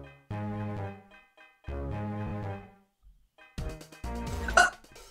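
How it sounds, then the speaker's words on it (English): Several short, voiced hiccup-like gulps in two sustained bursts, followed by a sharper, noisier burst near the end, close and fairly loud with no speech over them. "Oh, hiccups."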